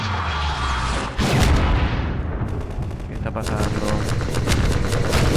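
Half-Life 2 combat with loud gunshots and booming explosions, an initial blast followed by dense rapid firing and crashing impacts throughout, while someone speaks briefly over the noise.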